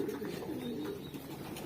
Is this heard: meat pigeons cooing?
yes